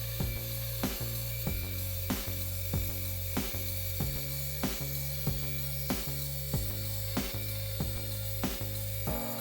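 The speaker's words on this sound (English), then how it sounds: "Walnut is extremely dense and this is a very thick slab, so I took my time with the cut, letting the saw do the work." A hand saw rips through a thick, dense walnut slab in slow, even strokes, roughly one per second, close and loud with a grinding rasp on each pass.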